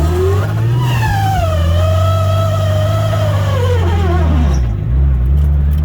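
A drift car's transmission whines loudly as the engine revs, a rising and falling mechanical tone that sweeps up and down over a steady low engine drone, close by and continuous.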